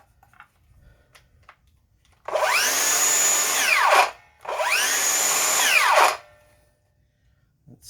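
Bosch GKS18V-25GCN cordless 7 1/4 inch circular saw run freely twice, each burst a loud whining spin-up that holds steady for under two seconds before the brake winds it down, with near silence between.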